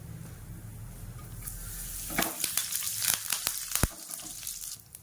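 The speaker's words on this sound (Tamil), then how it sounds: "கடுகு 2 பொரிஞ்சதுக்கப்புறம் கருவேப்பிலை சேர்த்துக்கிறேன்" Mustard seeds and curry leaves sizzle in hot oil, a soft frying hiss broken by sharp crackles and pops that build midway, with no voices.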